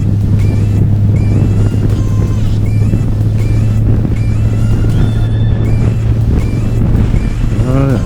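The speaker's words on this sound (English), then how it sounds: "this motor has a very, very spectacular sound to it" Flat-six 1832 cc car engine running steadily while driving, a loud constant low drone with road and wind roar throughout, no break in the sound.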